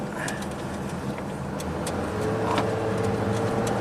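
A 2005 GMC Canyon pickup drives along with its engine rising slightly as it accelerates, a steady broad road rumble heard from inside the cab with a faint tone climbing near the end.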